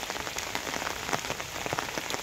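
Rain falls steadily on a mango tree in a village: dense, continuous pattering of drops on leaves with scattered louder taps, fairly faint and without any voices.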